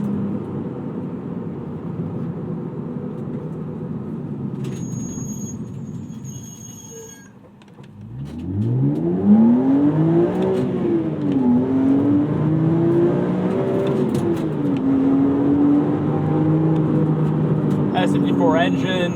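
A modified 2002 BMW M3 E46 with a 5-speed swap and S54 inline-six runs on track, its engine note dipping, then climbing in rising and falling revs toward a high wail, loud and close over road noise.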